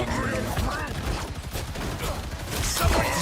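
Gunfire from the character Hela in the video game Marvel Rivals, a dense continuous barrage of shots layered over music and game effects, with a voice briefly talking in the mix.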